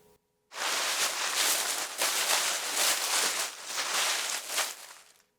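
A family plays in dry leaves, rustling and crunching them in a loud, continuous wash of crackling with uneven surges over about five seconds, close by and free of speech.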